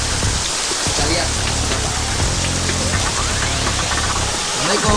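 Heavy rain pours down steadily outdoors in a dense, continuous hiss, with a faint low rumble beneath and no voices over it.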